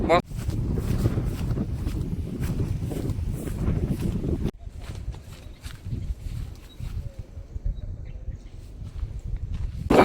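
Strong wind buffets the microphone in loud, gusty bursts, easing somewhat partway through but continuing to roar in uneven waves.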